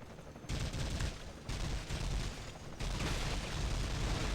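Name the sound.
turret gunfire in The Matrix: Path of Neo video game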